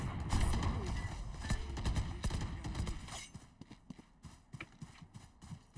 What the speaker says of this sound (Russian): Еще тут топают.